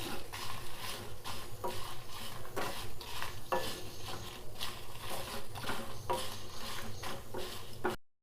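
Dried red chillies, coriander seeds and cumin being dry-roasted in a pan, stirred with a utensil that scrapes and clinks against the metal in irregular strokes, over a faint low sizzle, close and fairly quiet.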